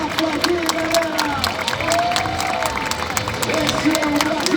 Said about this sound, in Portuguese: Vamos aplaudir, galera.